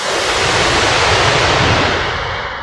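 Sea waves roar as a steady, dense wash of surf, loud and close, continuous with no voices.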